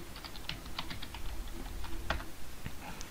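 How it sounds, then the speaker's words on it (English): Fingers tap out a password on a computer keyboard, a quick run of light, crisp key clicks at close range, fairly quiet with irregular spacing and no voices. "Type in the password again."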